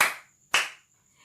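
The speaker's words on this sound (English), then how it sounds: "clap your hands" Two sharp hand claps from children in a classroom sing-along ring out about half a second apart, crisp and close, each decaying quickly into quiet with no talking.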